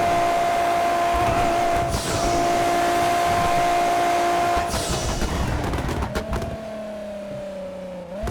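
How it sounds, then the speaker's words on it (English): A Toyota Supra Mark IV in the GTA 5 Online game accelerates hard, the engine note droning and climbing steadily, then gear shifts break the tone before it rises again, loud and alone. "Look at that acceleration."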